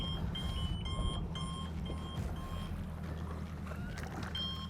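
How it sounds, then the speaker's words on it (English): A boat's navigation unit beeps a man-overboard alarm repeatedly in short, evenly spaced high tones over a steady low engine hum aboard a 2022 Nitro Z21XL. "My unit's here beeping at me."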